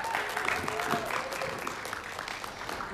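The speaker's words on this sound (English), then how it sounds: "give another round of applause for the Winslow sisters" An audience applauds the Winslow sisters at a festival performance, a steady wash of clapping with some voices mixed in.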